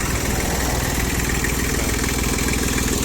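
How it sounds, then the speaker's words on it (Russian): An Iseki TL2500 three-cylinder mini-tractor engine idling steadily up close, a constant low chugging rumble with even rhythmic pulses and no change in pace. "краткий обзор мини-трактора Исеки TL2500"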